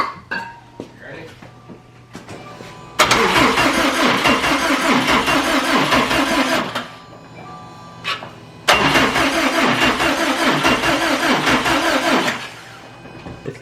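A worn Subaru engine cranks on starting fluid. Two long, loud bursts of churning starter cranking are separated by quieter pauses, and voices talk in the gaps.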